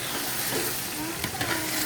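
Chilies for sambal fry and sizzle in a pan, a dense steady crackle with a few stirring clinks near the end and no talking.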